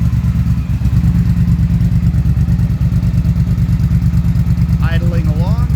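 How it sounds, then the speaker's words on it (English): A Triumph Bonneville T120 fitted with a British Customs off-road X-pipe and shorty exhaust idles warm with a steady, throbbing low pulse close by, and a brief voice comes in near the end. "That British Customs off-road X-pipe and shorty exhaust sounds so good."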